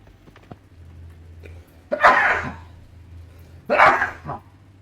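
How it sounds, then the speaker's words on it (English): A person sneezes twice while playing a gold-mining game with an excavator: two sharp, close bursts about two seconds apart, the second slightly trailing off, over a low steady hum. "I don't often sneeze, so it's weird."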